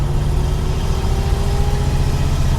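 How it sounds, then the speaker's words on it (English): A 1951 Ford Custom engine runs with a steady, low rumbling drone heard from inside the moving car, continuous and even throughout with no voices. "Listen to the purr of that engine."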